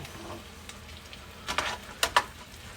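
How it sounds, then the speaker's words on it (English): A tablespoon of butter melting into a garlic chicken pasta mixture in a hot pan, giving a low, steady sizzle with a few sharp clicks and scrapes of stirring, close and fairly quiet with no talking. "We're now going to add 1 tablespoon of butter to our mixture."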